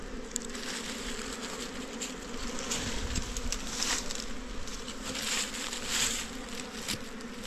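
A dense, continuous drone of many honey bees buzzing around a large wild hive, close and steady, with individual bees swelling louder as they pass near.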